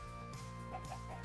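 A chicken in the Minecraft video game gives a few short, soft clucks in a quick run over a steady low in-game background hum.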